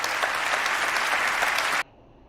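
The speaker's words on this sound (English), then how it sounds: "all them clapping, bro." A dense wash of audience applause, loud and steady, cutting off abruptly near the end and leaving near silence.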